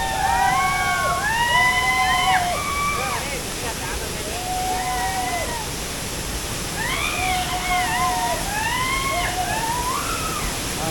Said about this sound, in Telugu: వాటర్ ఫాల్ అయితే బాగుంది చూడండి, చాలా హైట్ నుండి పడుతుంది.